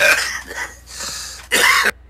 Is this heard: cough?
yes